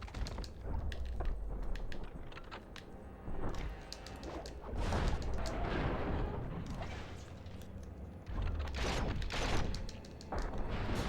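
Gunfire in the action video game The Matrix: Path of Neo, with sharp shots and impacts scattered through a dense, busy mix of clatter and combat noise that runs the whole way with no pauses.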